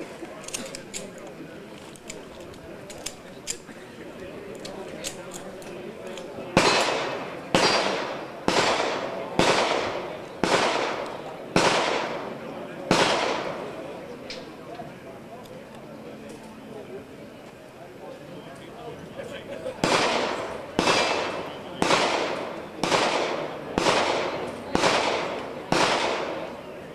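Gunshots at a charity shooting competition for the Special Olympics in Ottawa, Kansas: two strings of six sharp reports spaced about a second apart, loud and near, with quieter distant shots and faint background talk between them.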